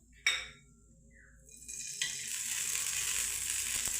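Oil hitting a hot tawa while cooking moong uttapam, a sharp clink and then a rising, steady hiss of sizzling that fills the last seconds without talk.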